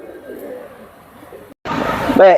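A red running hen pigeon coos in low murmurs at close range, then a louder burst with a brief warbling call near the end, over faint background noise.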